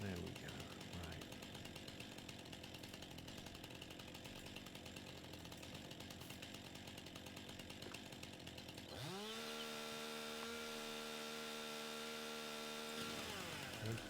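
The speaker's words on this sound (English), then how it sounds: "So, chainsaw, there we go." A chainsaw cuts a tree in a farming video game, first a long rough buzzing grind, then a revving tone that rises and holds steady, loud and continuous, with someone talking over it.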